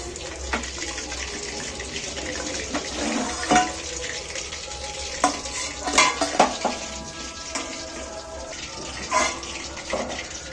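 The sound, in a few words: chicken pieces frying in a pan, sizzling dying down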